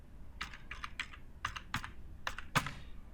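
Fast keystrokes on a computer keyboard during a WordPress plugin setup, a light clicking patter in short irregular bursts, close and fairly quiet with no talking.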